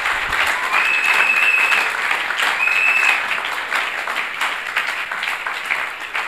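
A church congregation at a Sunday service breaks into sustained, dense applause for Jesus Christ, many hands clapping steadily with a few whistles for several seconds before slowly easing.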